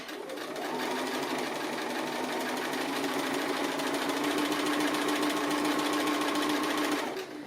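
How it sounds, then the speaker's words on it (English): A sewing machine free-motion stitches a dog applique, its needle running in a fast, steady, close mechanical whir for about seven seconds before stopping. "the beauty of the free motion is that I can sew in any direction I like"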